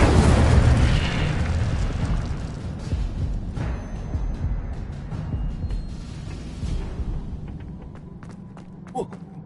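A fire spell erupts in a Harry Potter video game, a loud burst that rolls out into a sustained crackling roar, fading slowly with scattered pops toward the end and no talk over it.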